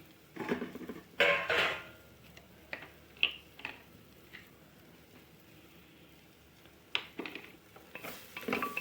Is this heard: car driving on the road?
no